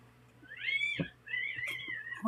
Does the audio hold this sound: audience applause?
no